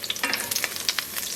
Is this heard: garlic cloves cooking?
yes